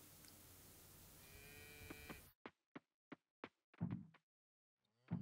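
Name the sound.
cow mooing in Coral Island video game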